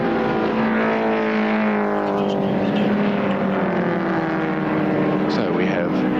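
A 1977 Hardy Ferodo 1000 touring race car climbs Dunlop Mountain straight at Bathurst with a droning, steadily rising engine note beneath a commentator's voice.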